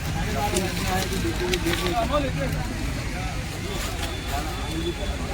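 A steady roar of a large fire at an industrial estate, fed by oil drums, with crackling, under a dense wash of background noise and distant crowd voices.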